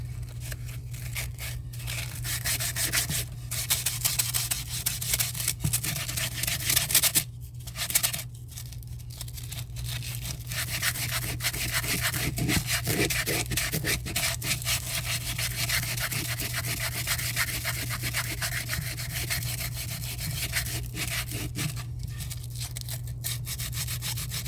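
Cured UV resin on a seashell-decorated tray being hand-rubbed and sanded, making a continuous close rasping scrub in steady back-and-forth strokes with a low steady hum underneath and one short pause.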